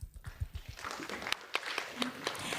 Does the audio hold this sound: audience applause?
yes